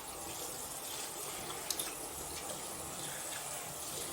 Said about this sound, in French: On va mettre de l'eau chaude.